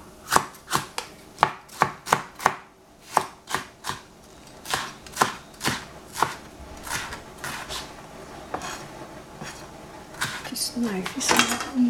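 A knife chopping capsicum on a cutting board in a home kitchen: a long series of sharp, evenly spaced thuds, loud and close, slowing and blending into softer clatter and handling noise toward the end.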